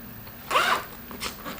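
A zipper on a Chanel Classic Flap Caviar bag slides open in a single quick close rasp, with a couple of smaller fainter zip strokes after it.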